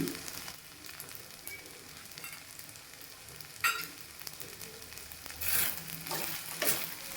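Cardamom and raisins drop into a hot frying pan for sweet vermicelli, giving a soft, steady sizzle with a few louder bursts of crackling and stirring toward the end.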